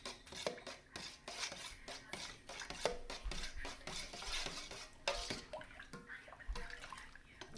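A spoon stirs carrot juice with ground cinnamon in a container, producing faint, rapid repeated clinks and scraping swirls that continue steadily without talk.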